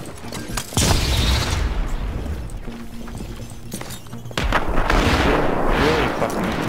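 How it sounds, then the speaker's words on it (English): Sticky bomb explosions in Tom Clancy's The Division rogue PvP: two loud, heavy booms a few seconds apart, each followed by rumbling debris and gunfire-like crackle, with no talking over them. "That's a mod for the sticky bomb."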